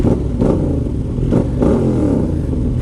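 A 2020 Yamaha MT-07 motorcycle fitted with a full GR Moto exhaust system revs loudly and close, its engine rising in several throttle blips over a steady rumble, with no talking.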